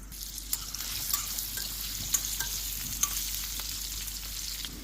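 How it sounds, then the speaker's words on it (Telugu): Baby potatoes fry in hot oil in a pan, giving a steady, close hiss and crackle with occasional sharper pops and spits throughout, with no voices over it. "ఆయిల్ హీట్ అయింది కదండి ఇప్పుడు పొటాటోస్ వేయించుకుందాం"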